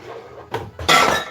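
Kitchen clatter as a chopping board is pulled out from storage, with a couple of short knocks followed by a louder scraping rattle, close by and without talk.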